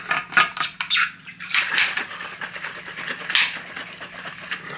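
A metal spoon clinks and scrapes around a glass of water mixed with electrolytes and salt, several bright rattling strikes in quick succession, close and fairly loud.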